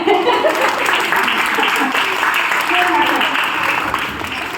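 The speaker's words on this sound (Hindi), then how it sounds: "पहले बजा दो ताली" Audience applause at a satsang gathering, a dense, steady wash of many hands clapping that carries on for several seconds at a fairly loud level.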